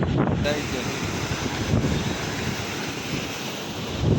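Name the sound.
flooded village river water rushing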